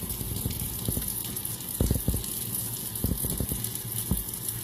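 Tap water runs steadily into a sink while a makeup brush is rinsed under it, a continuous hiss with occasional louder splashes and gurgles up close.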